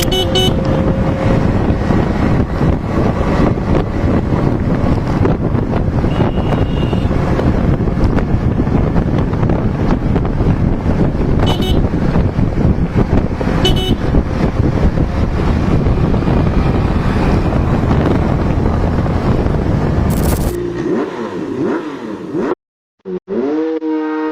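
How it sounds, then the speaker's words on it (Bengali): A Royal Enfield Classic 350 motorcycle rides in a race, with loud, steady engine roar heavily mixed with wind buffeting the microphone. Near the end the sound drops off and cuts out briefly. "আমরা আসলে সরাসরি একটা রেসের মাধ্যমে দেখতে চাচ্ছি রয়্যাল এনফিল্ডের পারফরমেন্সটা আসলে কেমন হয়"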